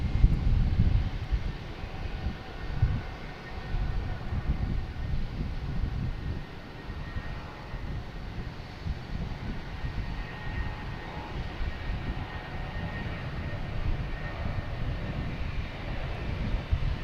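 A JetBlue Airbus A320 jet at Boston Logan Airport gives off a steady, continuous low engine rumble, fairly distant and even in level, with no voices over it.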